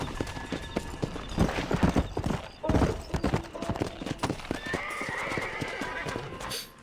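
Horse hooves clip-clop in quick bursts and a whinny rises near the end, all from a horse in Red Dead Redemption during a wild horse taming mission, loud and close with a few faint game noises underneath.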